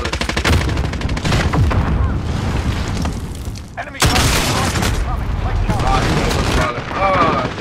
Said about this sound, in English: I can shoot my RPG at it